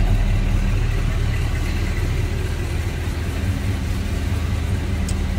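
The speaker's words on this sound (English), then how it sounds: "A little rumble coming out of that 440." The 440 cubic-inch V8 of a 1968 Plymouth GTX with an automatic transmission idles with a steady, deep, even rumble throughout, heard close and without any voices.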